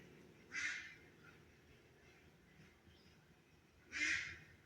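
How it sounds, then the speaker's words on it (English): Ducks quack in two short bursts at a farm, with chickens kept nearby; the calls sound somewhat distant over a low, steady outdoor background. "My ducks and my chickens."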